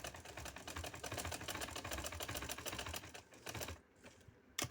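Sewing machine running steadily, stitching a fabric border onto a neckline, a rapid even needle rattle that carries on for several seconds before slowing and stopping near the end.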